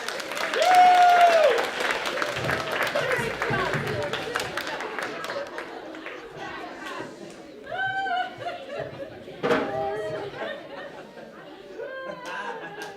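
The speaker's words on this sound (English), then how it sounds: "Another round of applause for volunteers." Audience applause for volunteers at a theatrical performance, clapping mixed with chatter, laughter and scattered voices, fading into lively crowd noise with some speech.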